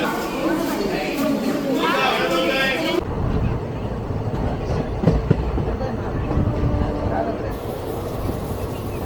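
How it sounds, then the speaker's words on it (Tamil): An express train on the Nagercoil–Chennai rail route, running past stations without stopping: a steady, loud rumble and rattle of carriages with faint clickety-clack, heard close from on board, with background chatter. "நம்ம ட்ரெயினும் வாணியம்பாடி ஆம்பூர் எங்கேயுமே நிற்காம போகுது."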